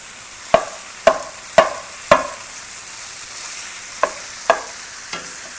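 Ground beef cooking in a pan for low-carb picadillo, with a soft steady sizzle under seven sharp spoon scrapes and knocks against the pan, close and alone.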